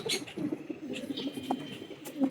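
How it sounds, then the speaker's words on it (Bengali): Pigeons coo softly in low repeated murmurs close by, with a few faint chirps and light movement sounds, brief and fairly quiet. "এই হচ্ছে পায়রা, দেখুন লেজ ডানা দেখুন, ঠিক আছে, এই হচ্ছে মাটি পায়রা"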